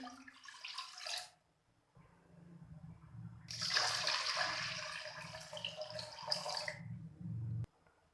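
About two glasses of water are poured into a pot for a sweet vermicelli dish, a splashing, gurgling pour that runs steadily for several seconds after a short earlier splash, heard close with no talk.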